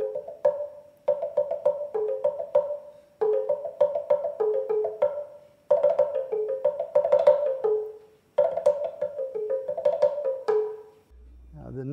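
Two bamboo log drums from Mexico, tourist models with one pitched higher than the other, are struck together. They give quick, hollow, woody knocks in repeated rhythmic phrases, played close and clear with short pauses between groups.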